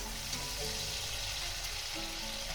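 Okra hitting hot oil in a pan sets off a loud, steady sizzle and crackle of frying that runs unbroken throughout, with no talking.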